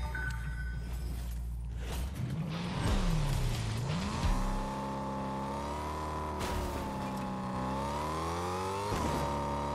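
A car in Fortnite drives and skids, with engine revs rising and falling and tire squeal sliding through the middle, loud and close with no talking.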